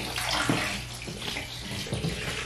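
Bathwater runs steadily from a tap into a tub in a home bathroom, a continuous close hiss and splash lasting throughout, with a few faint bumps and small sounds over it and no talking.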